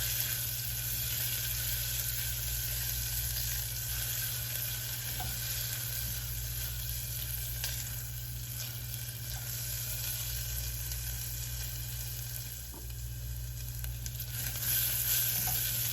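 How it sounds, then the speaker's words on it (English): Shallots and garlic sizzle and brown in a pan, a continuous, even frying hiss heard up close with no one talking. "And let this cook and brown for about 3 minutes."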